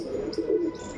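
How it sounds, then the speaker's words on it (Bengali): A male pigeon gives a close, low, throaty coo, one rolling phrase that swells in the middle and then fades. "খুবই সুন্দর নর পায়রা।"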